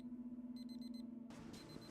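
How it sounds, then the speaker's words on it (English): A phone alarm beeps in fast repeated pulses, then a brighter tone sounds briefly, heard faintly over a steady low hum indoors. "My alarm going off for an 8:15 bus?"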